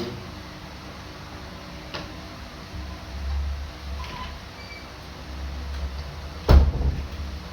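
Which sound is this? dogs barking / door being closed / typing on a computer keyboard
door being closed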